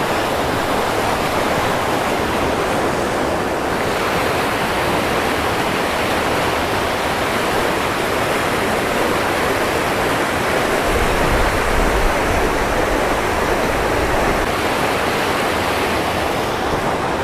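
A steady, broadband rush of the Laurel River in Pisgah fills the whole stretch, loud and continuous with no voices, swelling slightly toward the end.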